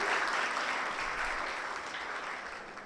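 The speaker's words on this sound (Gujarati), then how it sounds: "સ્વાગત કરીએ તાળીઓથી" A crowd at a welcome gathering at an ashram claps steadily, a dense wash of applause that slowly fades a little toward the end.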